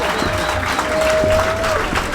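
Crowd at a submission grappling event clapping for the athletes, a dense continuous round of applause close by, with a voice talking faintly underneath.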